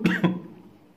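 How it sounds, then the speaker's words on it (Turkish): Two quick, sharp coughs close up, followed by a fading tail of quiet. "o kadar çok bağırmışız ki öksürük tuttu"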